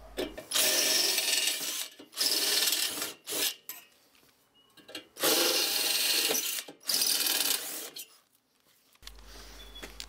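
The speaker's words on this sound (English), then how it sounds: "Use a bigger drill bit to enlarge the holes in the bed to fit the screws." A larger drill bit enlarges screw holes in a wooden lathe bed, the drill whirring loud and close in several separate bursts with short pauses and rubbing, grinding contact between them.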